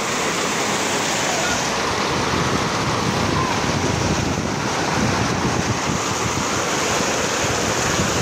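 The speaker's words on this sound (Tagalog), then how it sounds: "Hindi lang siya ulan guys, may kasama po siyang pagbugso na hangin na medyo malakas-lakas." Steady roar of heavy, large-drop rain driven by strong, gusting wind over a vegetable garden, a dense broadband rush that swells and buffets continuously with no voices.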